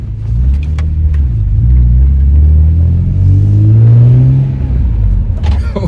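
A BMW E46 M3 with 67,000 kilometers revving while driving out of a storage lot, a loud, close engine rising in pitch through several strong pulls, with no talking.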